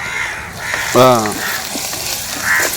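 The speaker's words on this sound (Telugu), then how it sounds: "అన్ని మంచిగా ఫ్రై చేస్తున్నావు ఆయిల్ మంచిగా కావాలి" Oil frying with chili powder for Maggi noodles, a continuous sizzle under a brief tonal voice or call near the start, with faint sounds of a household around it.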